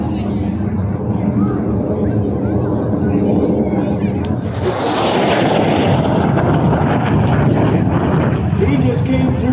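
A Russian MiG-17 jet roars past at an air show at Dover Air Force Base at about Mach 0.9, a loud sustained rumbling engine roar that swells into a harsher, broader blast midway and keeps thundering, with a voice talking over it.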